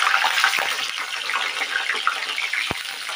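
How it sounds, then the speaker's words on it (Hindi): Brinjal fries in oil left over from frying potatoes for a brinjal and potato sabzi, a steady close hissing sizzle with scattered crackles and a sharp pop near the end. "अब हम इसी ऑयल में बैंगन को फ्राई करेंगे।"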